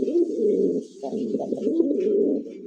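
A pigeon coos close by in a continuous low, rolling call lasting almost three seconds, loud and clear without any voices over it.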